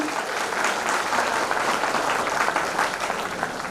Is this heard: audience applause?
yes